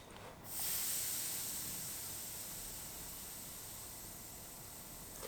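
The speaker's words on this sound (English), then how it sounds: "the cloth will obviously dry out and you can just re-dampen it with a spray" A spray bottle mists water onto an iron-on pressing cloth in one long, soft, close hiss that rises quickly and fades slowly.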